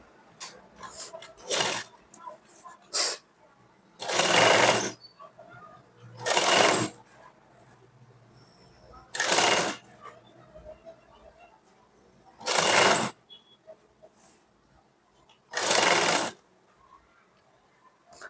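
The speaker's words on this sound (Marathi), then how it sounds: "लगेच आपल्याला इथून शिलाई मारून घ्यायची आहे" A sewing machine stitches a blouse in several short, loud runs of about a second each. Quiet pauses separate the runs, with faint handling sounds in between.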